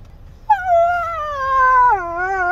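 A husky whines inside a car at a Tim Hortons drive-thru, one long, loud, wavering high-pitched howl-like whine that bends downward, close to the listener.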